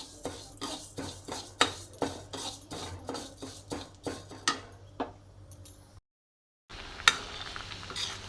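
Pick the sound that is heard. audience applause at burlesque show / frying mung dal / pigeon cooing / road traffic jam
frying mung dal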